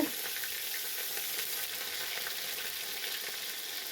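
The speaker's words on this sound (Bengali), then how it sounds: "এই যে কারেন্টের চুলাই আমি ভাজিটা করে নিতেছি" Cauliflower, potato and eggplant frying in a pan on an electric stove, a loud, steady close-up sizzle with fine crackling that runs unbroken throughout.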